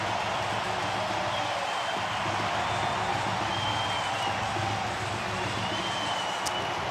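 A crowd at a Toronto Blue Jays playoff baseball game against the Seattle Mariners roars after an extra-base hit, a steady, broad wash of cheering and noise that holds for several seconds.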